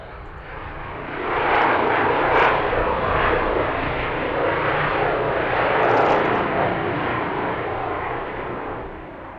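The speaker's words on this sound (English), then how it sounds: "E145 coming in from Boston. So this one's going to have to clear the runway pretty quickly." An Embraer E145 regional jet arrives at Harrisburg airport, its broad engine roar swelling and holding steady at a moderate distance, loud and without speech.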